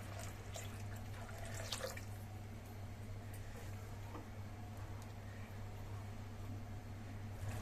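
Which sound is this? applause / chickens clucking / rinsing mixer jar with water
rinsing mixer jar with water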